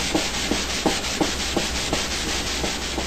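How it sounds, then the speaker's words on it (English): A large flat sanding block is pushed back and forth along a wooden guitar fretboard, making loud, steady, rhythmic rasping strokes about three per second with no talking. "a large flat block and sand along there like this"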